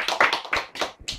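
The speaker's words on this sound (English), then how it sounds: "They can get a big applause." Short burst of hand clapping from a hotel audience applauding volunteers at a magic show, several quick close claps in an uneven rhythm.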